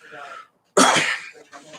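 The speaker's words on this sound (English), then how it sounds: "Sorry, I'm coughing." A single sharp, explosive cough bursts out loudly, preceded by a moment of faint breathy vocal sound and followed by a softer exhale.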